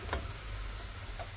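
Mushrooms sizzle in a pan over high heat on a stovetop, a steady close frying hiss with a couple of faint ticks or stirring touches, no talking.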